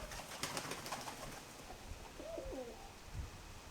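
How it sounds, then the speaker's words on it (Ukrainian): Soft, low cooing from a pigeon, a short rolling call rising out of light outdoor background noise, fairly faint and with no voices. "Голубочка рибохвоста, майже голубочка, може і голуб буде."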